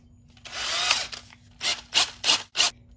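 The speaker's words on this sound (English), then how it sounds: "I'm going to be using this flex hone that's sized specifically for this cylinder." A drill spins a flex hone inside a Suzuki LT500 cylinder: one longer whirring run, then four short bursts in quick succession, each with a gritty, rubbing buzz.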